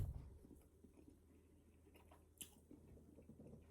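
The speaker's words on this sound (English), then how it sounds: "Let me stop chewing. Let me stop eating and talking." A person chewing food while eating, with soft, wet, continuous mastication and squishy bites under low background noise, with no talking heard.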